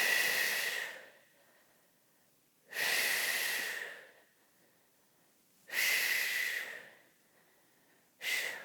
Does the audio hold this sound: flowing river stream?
no